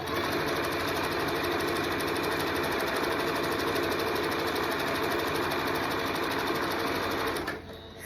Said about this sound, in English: lower my lever, and I'm going to continue to sew